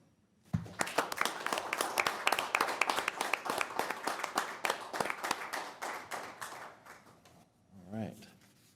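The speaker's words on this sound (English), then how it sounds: "we should give them a big round of applause" Mixed clapping and applause ring out at a county public health briefing, starting abruptly and running several seconds before fading, after which a voice briefly speaks.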